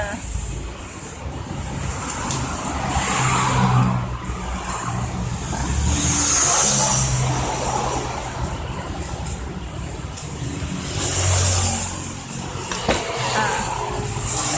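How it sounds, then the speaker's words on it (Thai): A car is driven in to park, its low engine and road rumble rolling continuously under gusty wind buffeting the microphone. "ไปจอดรถก่อนแล้วมา"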